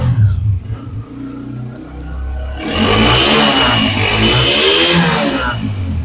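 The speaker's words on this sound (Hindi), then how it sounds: "अच्छा गाड़ी स्टार्ट है विदाउट एक्सीलेटर, फर्स्ट किक" An old Honda 125 motorcycle is kick-started at a used bike market in Karachi, its engine catching after a quiet start and then settling into a loud, steady idle that continues to the end.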